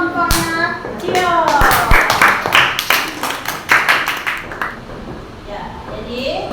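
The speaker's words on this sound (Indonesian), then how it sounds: "Oke, tepuk tangan untuk kelompoknya." Classroom applause for a student group, a quick burst of clapping hands close by, mixed with children's voices and a teacher speaking over it, fading out after a few seconds.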